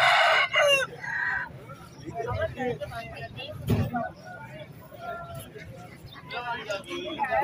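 A Jagiri aseel rooster crows loudly nearby at a Karachi rooster market, with clucking and a busy crowd talking around it and traffic rumbling in the background.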